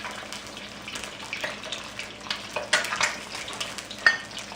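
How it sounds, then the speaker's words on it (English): Eggs frying in hot oil in a wok while being stirred and broken up for Thai fried rice, a steady close sizzle with scraping stirs and sharper clacks. "Once the eggs have been added to the wok, just give them a quick stir in the oil and break them up in a scrambled egg sort of manner."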